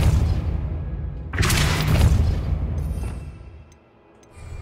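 Bombarda spell explosion in Hogwarts Legacy, a loud burst with a deep rumble that swells and then fades into a quieter tail, followed by faint ticking.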